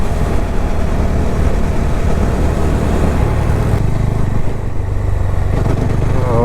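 A Bajaj Dominar 250 motorcycle engine drones loudly and continuously while riding, a rough throbbing hum with wind noise, close and steady, with a slight drop in pitch near the end.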